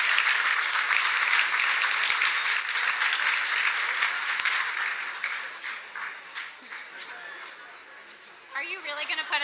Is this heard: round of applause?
yes